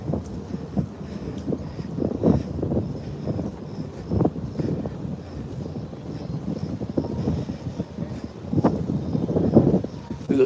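Steady wind buffets the microphone in uneven gusts on the deck of the cruise ship P&O Britannia, a low rumbling roar that swells and dips throughout without pause.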